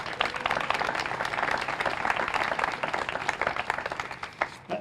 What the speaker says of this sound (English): A big round of applause, Heather.